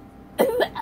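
A single short cough, near and fairly loud, rising out of quiet background and followed by a fainter second burst.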